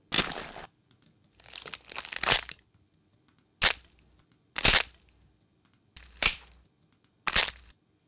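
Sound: crunchy punch sound effect from Odyssey library

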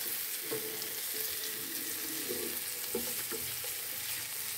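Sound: egg tortilla frying and being stirred in a pan

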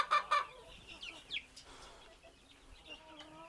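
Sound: desi (gavran) chickens in a shed

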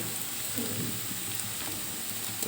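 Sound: onions frying in pan for mutton blood curry

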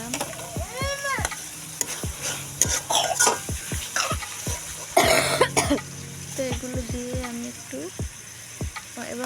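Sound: spice paste with onion, ginger, garlic frying in pan

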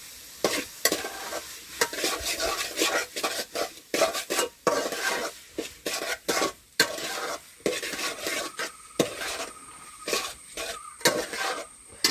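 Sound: potatoes and tomato being stirred in a pan

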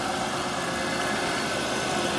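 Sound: 2010 Chevrolet Impala engine idling

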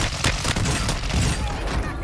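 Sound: gunfire in a multiplayer shooter video game

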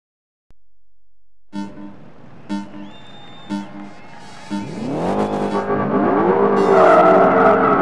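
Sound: Ford Shelby Cobra GT500 racing in the video game Project Gotham Racing 3

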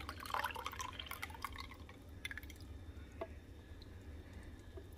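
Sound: pouring canned pineapple in juice into slow cooker

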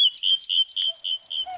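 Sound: nightingale singing, sound effect in a fairy tale reading

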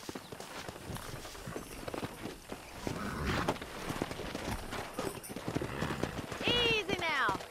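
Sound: horses trotting and neighing in the video game Red Dead Redemption

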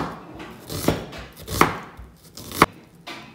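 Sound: knife slicing an onion into thin slices

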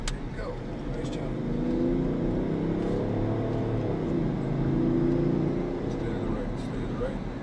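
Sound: BMW car accelerating at full power

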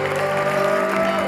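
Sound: audience applause on a game show

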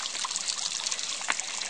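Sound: water trickling in a water fountain

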